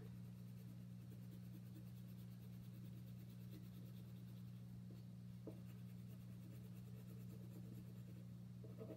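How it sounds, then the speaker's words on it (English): A brown crayon scrubs quickly across paper while coloring in a tree drawing, a steady, faint waxy scratching that continues throughout over a constant low hum. "I'm going to color mine in pretty quick with this brown crayon"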